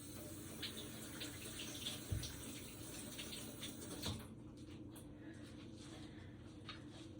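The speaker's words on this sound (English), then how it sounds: "Put this in the sink, rinse my hands off." A kitchen sink tap runs steadily as hands are rinsed beneath it, giving a faint, continuous splash of water with a couple of soft knocks.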